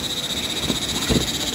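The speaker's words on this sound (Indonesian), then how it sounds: "Tuh lihat suara tonggeret." Cicadas calling at dusk at the Mandalawangi campsite on the slopes of Mount Gede Pangrango, a steady shrill drone holding unbroken through the whole moment with no voices over it.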